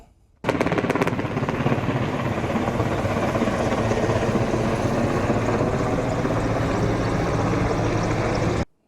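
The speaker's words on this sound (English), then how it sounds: "A Russian helicopter Mi-8." A Russian Mi-8 helicopter drones steadily with a dense, rhythmic rotor thump that holds loud and even throughout, with no voices over it.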